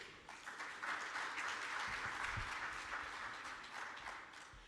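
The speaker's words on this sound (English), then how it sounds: "Surely the minister deserves a bigger round of applause." Sustained audience applause for a minister at an investment forum, a steady wash of many hands clapping at moderate distance, filling the room evenly with no speech over it.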